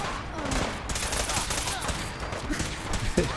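Explosive weapon fire in Fallout 4, with dense rapid bursts and booming impacts filling the whole stretch at steady loud volume, a sharp crack standing out near the end.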